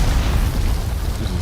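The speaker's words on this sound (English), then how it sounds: "I like that grenade." A single grenade blast in the video game Dune, heard as a loud, dense roaring rumble that fills the moment with heavy low boom and broad crackling noise.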